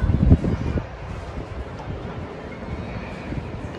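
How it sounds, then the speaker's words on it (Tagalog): Wind gusts against the microphone high up among downtown Toronto buildings, a rough buffeting rumble that is strongest at the start and then settles into a steady low rush. "Mahangin din dito ah."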